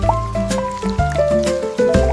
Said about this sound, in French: Chaque goutte fait plink, puis plonk, puis patte, un battement de tambour dans mon chapeau.